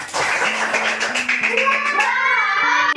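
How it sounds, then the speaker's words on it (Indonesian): A classroom group claps for a presenting team, steady dense applause from many hands, close and lively, with voices mixed in and one voice carrying a sustained tone. "kita kasih aplaus untuk kelompok habitat"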